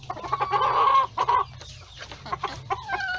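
Ornamental chickens cluck in a pen, with a hen's drawn-out clucking close and clear, then scattered shorter clucks and calls from several birds. A low steady hum runs underneath.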